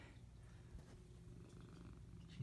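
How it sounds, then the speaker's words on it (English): A cat purring softly and steadily up close, a low continuous rumble with no voices over it. "She's purring."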